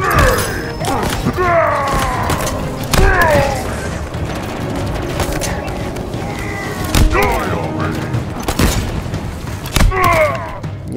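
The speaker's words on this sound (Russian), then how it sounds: "Пушки с корабля фигарят." In the shooter game Halo Infinite, cannons on a ship fire repeated heavy booms and thuds amid mechanical clatter, mixed with game effects and a person talking over the action.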